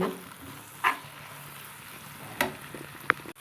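Tomatoes sautéing in a pan with ground garlic, cinnamon and cloves for biryani give a soft, steady sizzle broken by a few sharp spatula clicks and scrapes, close by, with no talking.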